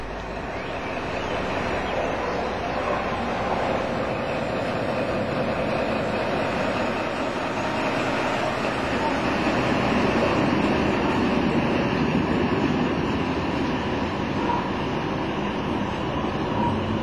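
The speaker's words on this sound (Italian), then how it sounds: "Abituale la presenza in stazione del treno dei sapori." A steam train hauled by FNM locomotive 200.05 stands with wagons at a station, making a continuous broadband rumble and hiss that stays loud and even throughout, with no clear voices.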